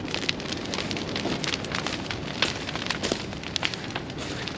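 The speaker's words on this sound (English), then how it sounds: "she's a hot fire" A hot fire burns in the woods among dry leaves and grass, a steady roar broken by frequent sharp crackles and pops, close by and with no talk.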